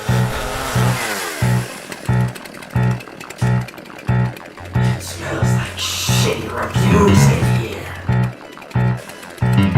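A chainsaw in the game Resident Evil 7 revs in repeated rhythmic bursts about every half second, loud and mechanical, with game music and effects mixed in around it.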